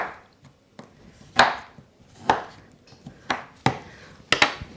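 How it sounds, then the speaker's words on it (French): A sharp kitchen knife scrapes chocolate into curls, giving a series of short, crisp strokes spaced roughly a second apart, close and moderately loud with faint scraping between them. "vous prenez un couteau qui coupe bien et puis vous allez, voilà, faire à l'aide de votre couteau des copeaux"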